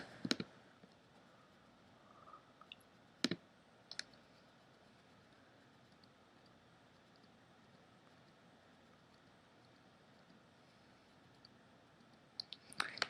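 Computer mouse clicks while editing in iMovie, a few sharp isolated clicks near the start and middle and a small cluster at the end, separated by long quiet stretches.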